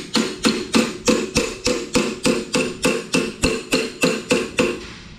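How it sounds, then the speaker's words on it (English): Steady body hammer blows ring on sheet metal being folded to a right angle, about three per second, sharp and close with bright metallic decay, continuing evenly without talk. "take our little body hammer here and we fold it until it's a 90"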